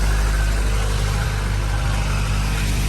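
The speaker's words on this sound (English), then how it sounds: "it's cold, so this is a cold start. It's not revving high or anything like that" A 2000 Honda Integra GSR engine idles steadily after a cold start, a close, continuous low rumble with an even, unrevved pulse and no voices.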